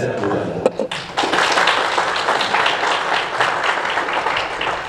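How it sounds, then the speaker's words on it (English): A seminar audience applauds for visiting dignitaries on Chinese investment in Zimbabwe, a broad, steady round of clapping that builds quickly after a brief voice and continues loud and even, with some speech mixed in. "a big round of applause for our VIPs."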